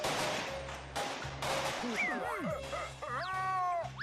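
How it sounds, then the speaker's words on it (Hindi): Cartoon fireworks crackle and pop in quick bursts, followed by whistling, rising and falling shell sounds, fairly close and dense over a few seconds, with a faint voice under them. "यहाँ सामने आतिशबाजी हो रही है।"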